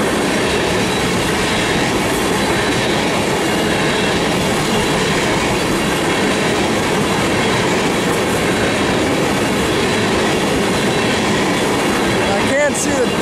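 A train rolls past on a Canadian Pacific (CP) railroad line, a loud, steady broadband roar of railcars and wheels with rumbling clatter lasting throughout, close by and continuous.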